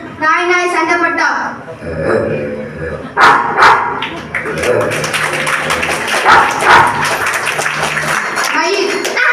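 A mimic's voice imitates two dogs fighting, with bursts of snarling barks, yips and whimpers that overlap in rapid, loud, uneven flurries, close to the microphone.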